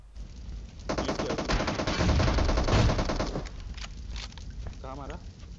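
Rapid sustained automatic gunfire in PUBG Mobile, dense bursts of shots rattling for several seconds, loud and close, then fading into scattered softer sounds, with someone talking over it.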